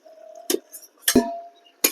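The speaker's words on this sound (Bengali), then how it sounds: "এবারে ঢাকনা তুলে নিচ্ছি।" A lid comes off a covered pot of tomatoes simmering for a jujube-and-tomato chutney, giving three sharp, close metallic clinks spaced out over two seconds, the middle one followed by a brief ringing tone, with no talking.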